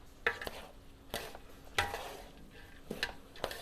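Spoon scraping and clinking in a pot as prawn fried rice with vegetables is stirred and mixed, several separate clattering strokes at uneven intervals, faint and close, with no voice.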